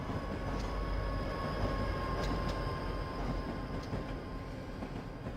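A freight train on the Feather River line, with SD40 and SD45 mid-train helper locomotives, rolls past in a steady, close rumble. Faint metallic squeals and clicks break through now and then.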